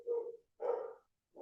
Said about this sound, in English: Daisy's barking